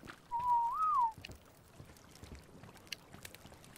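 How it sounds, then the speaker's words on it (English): A single sustained whistle used as a command to tame a creature in a desert survival video game. The tone is clear and close, holds steady, then swoops upward and back down over just under a second, with faint background noise afterward. "Maybe I should whistle you passive."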